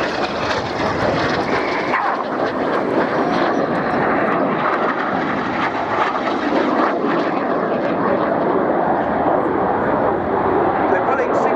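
Red Arrows display jets roar through tight turns at an air show, a loud continuous broadband engine rush with someone commentating over it throughout.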